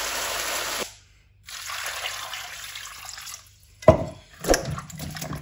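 Water runs from a tap in bursts, stopping briefly, with splashing and a few sharp knocks as something is rinsed under the stream nearby.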